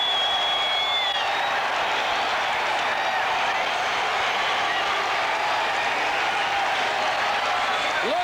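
A packed crowd at Chicago's Wrigley Field roars and claps as the Cubs close out a championship, a dense, continuous wall of cheering with a whistle rising through it.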